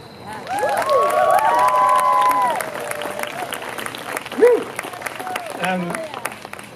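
Audience applause with cheering and whoops at a Climapalooza climate event in Cambridge, a loud burst of clapping that swells, then thins and fades into scattered shouts.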